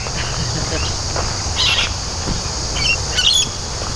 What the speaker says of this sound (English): And still got that sound of cicadas.